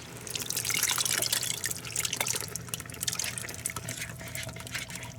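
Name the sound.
liquid being poured onto beef stew meat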